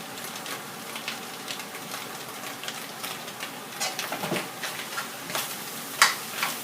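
Glass noodles dropped into a hot pan for dry suki, giving a faint, steady sizzle with soft stirring scrapes and a sharper clink near the end, no talking.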